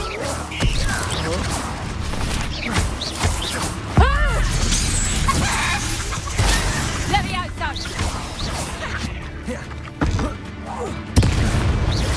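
Confringo blasting spells in Hogwarts Legacy burst in heavy booms and crashes, the loudest near the start, middle and end, among whooshes, clattering debris and intermittent voices.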